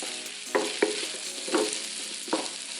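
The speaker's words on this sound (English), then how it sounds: "get our turkey bacon and our turkey sausage in there" Turkey bacon and turkey sausage frying in a hot skillet for a breakfast dish, giving a steady sizzle with a few sharp stirring clicks and scrapes spaced through it.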